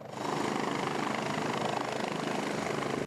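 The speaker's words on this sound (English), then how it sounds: "a rescue helicopter touches down" A rescue helicopter's rotor thumps in a steady, rapid rhythm as it lands, a constant loud drone close by with no voices.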